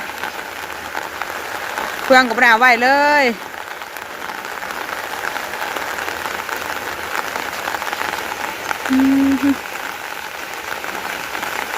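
Heavy rain pours down during a storm, a steady, dense hiss of drops drumming on surfaces throughout. A person speaks briefly over it, and a short tone sounds near the end.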